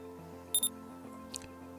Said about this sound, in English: it's not a actual beeping sound of any clock, it's an Opel Astra beeping car notification